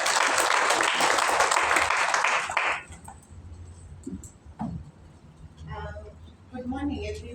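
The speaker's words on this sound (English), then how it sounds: "Let's give her a round of applause" An audience applauds loudly and densely at a formal gathering on gender and climate justice, then the clapping cuts off after about three seconds and a single voice begins speaking.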